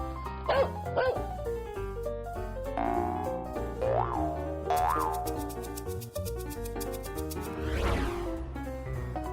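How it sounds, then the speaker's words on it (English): A cartoon dog barks in a children's animal learning show, a few bouncy, exaggerated woofs set over playful music with boing-like sliding tones and chimes. "Dog!"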